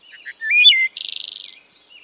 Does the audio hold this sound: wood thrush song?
yes